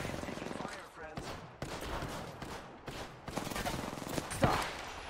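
Rapid automatic gunfire from the video game Apex Legends, sustained bursts of shots over game sound effects, with voices talking throughout.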